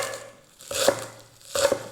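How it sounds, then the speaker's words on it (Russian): Knife chopping fresh parsley and dill on a board in a home kitchen, two short bursts of close, crisp cuts with a pause between them, no talk. "У нас тут петрушка и укроп. Мелко нарезаем и добавим в нашу начинку."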